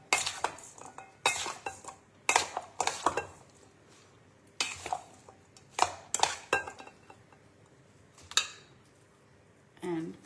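Spoon clinking and scraping in a bowl as mayonnaise is mixed into cauliflower salad, in irregular bursts of stirring and clinks, close and fairly quiet, with no voice heard.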